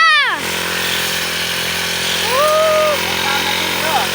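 A grass trimmer cutting grass drones steadily and rises briefly in pitch as it revs. People talk over the engine noise throughout.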